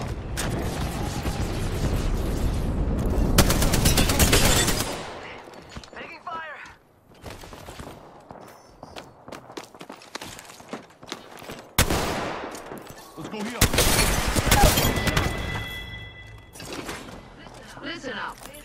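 Bursts of automatic gunfire from an Apex Legends match, loud and rapid, coming in dense volleys with short gaps between them, mixed with game voice callouts.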